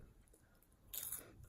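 Crunchy Ukrainian snack chewed close up, a quiet crunch of bites building to a brief brighter crackle near the end, with no talk.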